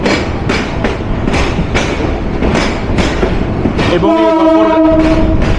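Up Tista Express pulls into Gafargaon railway station, its wheels beating a steady clickety-clack rhythm before a loud, sustained horn blast sounds near the end.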